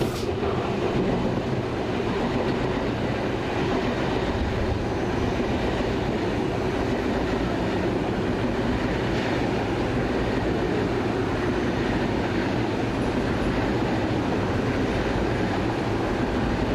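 An ICE high-speed train set on the Dresden to Frankfurt service runs past at dusk, a loud steady roar of wheels and rushing air sustained throughout with faint rail clatter.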